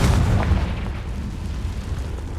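A Confringo spell explodes in the Hogwarts Legacy video game: a loud, close blast with a heavy low rumble that decays over a couple of seconds.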